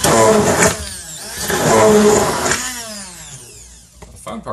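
A kitchen blender whirs loudly while blending homemade keto mayonnaise made with avocado oil and bacon fat, its motor surging and dipping in pitch over a few seconds before winding down, with a knock at the end.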